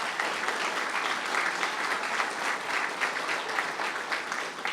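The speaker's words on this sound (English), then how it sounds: "So I just want to give you all a round of applause right now." An audience at a municipal mayoral election debate in Haldimand County claps continuously, a dense, even round of applause that holds steady for several seconds.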